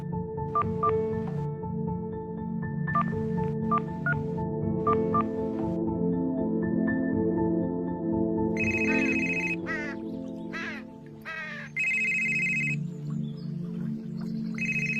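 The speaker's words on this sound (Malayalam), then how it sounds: "ഉമ്മ ഫോൺ അടിക്കണേ" A mobile phone beeps through a run of evenly spaced keypad tones as a number is dialed, then a trilling ring tone sounds in repeated bursts, close and clear over a low background drone.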